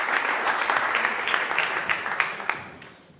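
A crowd claps at an awards press conference, the hands quick and fairly close, then thinning and fading out over about three seconds.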